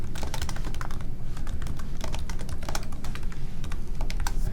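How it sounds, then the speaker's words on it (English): Rapid, steady typing on a computer keyboard, close and moderately quiet, with dense overlapping key clicks running throughout and no voices. "So we'll go ahead and type in that campaign name."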